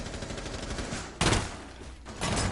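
Gunfire in a team video game match, with rapid dense bursts of automatic fire, a sharp loud burst partway through and another toward the end, over a continuous clattering background without talking.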